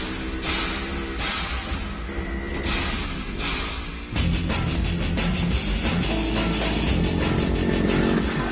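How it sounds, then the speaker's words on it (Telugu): A motorcycle rides past close by, its engine droning loudly, then it surges into a louder, rougher roar midway that holds to the end. "అదిగో బైక్ లో వెళ్తున్నాడే అతనే"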